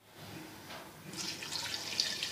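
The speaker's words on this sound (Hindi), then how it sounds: "अब हम इसमें तकरीबन 1 गिलास पानी डालकर इसको कुकर को बंद कर देते हैं।" About a glass of water poured into a pressure cooker holding beef karahi, a soft close splashing pour that builds and brightens over about two seconds, heard alone without talk.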